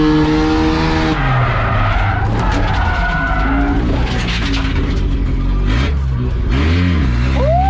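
An RX7 race car slides sideways with loud, continuous tire skidding and squealing over a roaring engine, revving shifting through the clip at close range with no talk.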